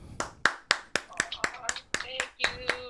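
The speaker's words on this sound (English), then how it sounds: "let's clap for B Love" Slow rhythmic hand clapping during a morning talk show, about ten distinct sharp claps at a steady pace, close and fairly loud, with a voice talking faintly underneath toward the end.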